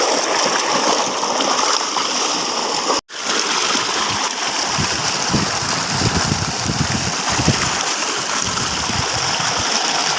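Water from a motor-pumped tubewell gushes and splashes steadily in a village field, a loud continuous rushing stream close by that never lets up.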